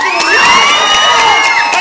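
Concert crowd in Ashkelon cheering and shouting loudly, a dense continuous roar with high whoops and children's voices, close and filling the whole moment.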